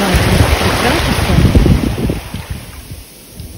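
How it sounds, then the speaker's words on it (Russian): Strong wind by the sea roars and buffets the microphone in low rumbling gusts, easing toward the end, with no voices. "Сейчас мне в спину дует ветер"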